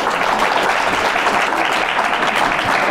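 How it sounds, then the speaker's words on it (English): An audience at a panel discussion breaks into sustained, dense applause, loud and steady throughout with no talking over it. "we should give this amazing panel a round of applause"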